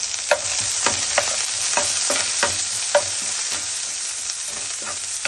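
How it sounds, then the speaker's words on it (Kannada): Onion and curry leaves sizzle steadily in hot oil for a South Indian tempering, with repeated scraping stir strokes of a spatula in the pan, close and continuous with no talk. "ಸ್ವಲ್ಪ ಈರುಳ್ಳಿ ಫ್ರೈ ಮಾಡಿ"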